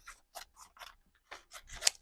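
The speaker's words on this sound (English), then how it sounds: "and I'm going to cut a strip." Scissors snipping through a strip of leftover paper while making a 3D paper snowflake ornament, a quick series of about six close, crisp cuts in an uneven rhythm with no talking.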